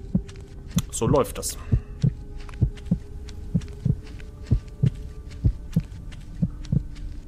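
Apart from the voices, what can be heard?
heartbeat sound in the horror video game Screaman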